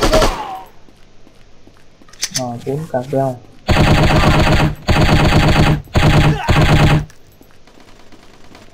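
Automatic gunfire in the mobile shooting game Striker, chapter 4: someone speaks briefly, then four long, loud bursts of rapid fire come in quick succession, separated by short gaps.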